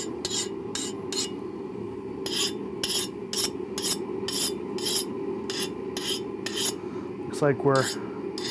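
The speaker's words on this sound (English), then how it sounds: "I'm gonna go ahead and grab a file now and I'll test the edge for hardness." A hand file skates across the hardened edge of a forged railroad spike knife in steady, close rasping strokes with regular pauses, followed by a short scraping sweep near the end, and someone speaks a few words.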